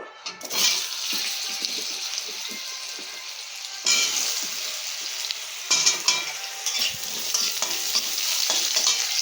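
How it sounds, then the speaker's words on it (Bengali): Potatoes frying in oil in a pan, a loud, steady close hiss of sizzling broken by intermittent stirring scrapes that surge in several bursts across the stretch. "আলুও ভাজা হয়ে গিয়েছে বন্ধুরা, এবারে আলুটাকেও তুলে নিচ্ছি।"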